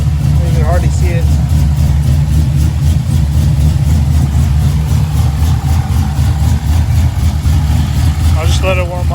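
An LSA-swapped engine idles steadily while warming up, a loud, continuous low rumble that stays close and even throughout, with brief chirps near the start and end.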